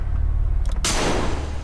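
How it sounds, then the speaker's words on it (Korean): A single sharp gunshot in a first-person shooter video game cracks out over a loud, steady low rumble, its blast spreading out briefly before fading back into the background. "이거 총소리 미쳤는데?"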